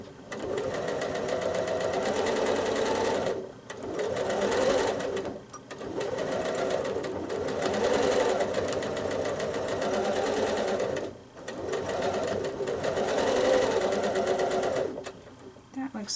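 Sewing machine free-motion quilting a crack maze pattern, running in long steady stitching bursts separated by short pauses.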